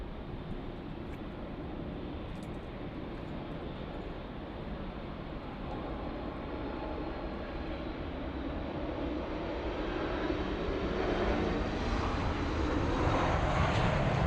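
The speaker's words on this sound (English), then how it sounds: "As we see the French 777." A French Boeing 777 airliner at LAX gives off a steady jet engine roar heard from a distance, swelling gradually louder over the last few seconds as it draws nearer.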